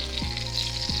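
Chilean sea bass sizzling in a hot skillet, a steady close crackle and hiss of frying with a couple of brief clinks or scrapes, no talk.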